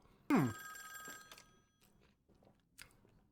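A telephone bell rings once, loud and close, in a scene from a Squid Game episode, then fades into quiet room sound with faint voices.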